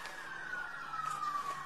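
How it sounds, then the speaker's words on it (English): A siren wails faintly in the distance, its tone sliding slowly downward over a quiet background. "I can't think with all these sirens."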